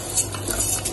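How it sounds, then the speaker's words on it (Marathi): Basmati rice in ghee is stirred in a pan, a short scrape of a spoon against metal with faint sizzling. "तांदूळ छान असे तुपावरती मस्त परतून घ्यायचे आहेत।"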